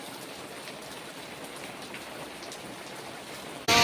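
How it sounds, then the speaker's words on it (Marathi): Heavy rain falls steadily in a residential neighbourhood where drains are overflowing, a dense, even hiss of drops on surfaces that holds throughout and ends in a sudden loud burst of noise. "आमच्या इकडे आज सकाळपासून खूप पाऊस होतो।"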